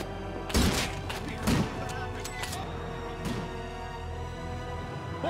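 Gunfire from another player in a Minecraft-style manhunt event, with two heavy thudding shots standing out over a steady game background, followed by lighter pops, and a voice murmuring underneath.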